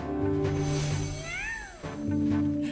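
A cat-like Pal in Palworld meows once in a drawn-out, rising-then-falling call, close and clear, set against a steady low hum.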